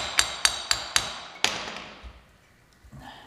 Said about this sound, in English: there's a spot right here to tap it, get it free, and then it should just work easily with a screwdriver